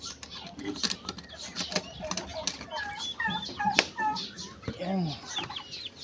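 Young turkey chicks are moved from an incubator to a brooder, peeping and cheeping close by with scattered rustling and wing flutters, and a voice talks briefly among the chirps.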